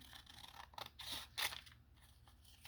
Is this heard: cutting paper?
yes